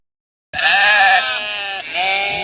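A sheep bleats loudly and close by after half a second of silence, one long wavering call that breaks briefly and then resumes until the end.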